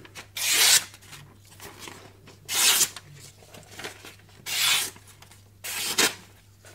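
A freshly sharpened kitchen knife, just honed on a 500-grit Morihei whetstone, makes four separate rasping test cuts, each a short broadband swipe about a second long with quiet pauses between.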